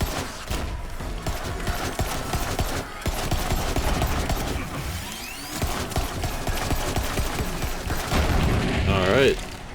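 A semi-automatic gun firing repeatedly in Borderlands 3, dense shots and explosive booms overlapping in a loud, chaotic fight, with brief talk over the gameplay.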